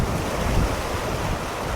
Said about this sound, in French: on a trouvé notre petite cascade pour se rafraîchir un peu